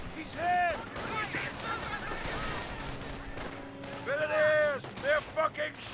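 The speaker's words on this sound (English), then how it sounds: "They're fucking shooting at us!" Rifle and machine-gun fire in the World War II strategy game Company of Heroes, scattered shots and short bursts under shouted soldier voice lines and radio-like calls.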